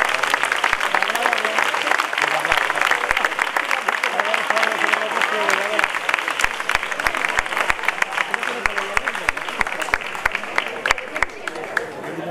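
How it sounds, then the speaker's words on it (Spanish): Applause for a performer at the Noches de Bajo de Guía contest final, loud crowd clapping with sharp individual claps standing out, mixed with crowd chatter and voices throughout. "Un aplauso grande para Juan el Plazoleta."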